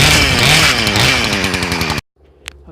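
A Poulan Pro 18-inch 42cc gas chainsaw runs loud and close with a rough, buzzing engine drone for two seconds, then cuts off abruptly, leaving near silence and a faint click.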